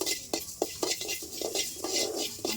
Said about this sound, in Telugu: ముందుగా మెంతులు వేయించుకోవాలి